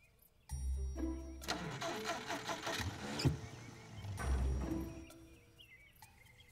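A Mercedes car engine running rough and unhealthy, starting up with a loud mechanical rumble and uneven sputtering, then surging again before dying down, heard close with no talking.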